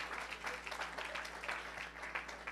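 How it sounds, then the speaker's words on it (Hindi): A church congregation at a Sunday service claps for a brother, a moderately quiet but continuous patter of many hands over a low steady hum in the room. "भाई नज़ीर के लिए भी तालियां बजा दें"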